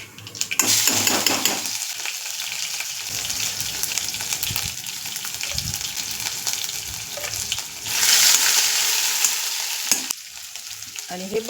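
A little oil frying in a hot kadhai for batata vada masala, a bright hissing sizzle that swells and fades with stirring, close and fairly loud, with a brief watery gush near the end and no voices.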